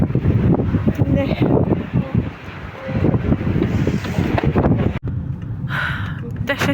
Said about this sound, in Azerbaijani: Dəhşət külək var.